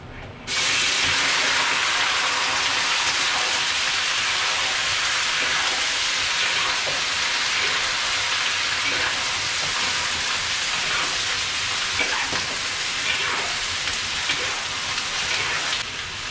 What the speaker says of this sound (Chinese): 焯好水的猪脚下锅